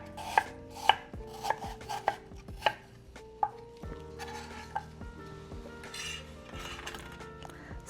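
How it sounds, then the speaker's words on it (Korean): Knife chopping a peeled, cored apple into thin julienne strips for a Korean cabbage geotjeori salad, sharp rhythmic cuts on a board at first, then softer irregular kitchen clatter and light scraping, close and without talk. "이제 씨 이제 도려내고선 채쳐줄게요"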